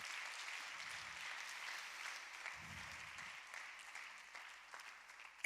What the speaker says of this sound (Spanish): ¿Le pueden dar un aplauso fuerte al que nos escogió?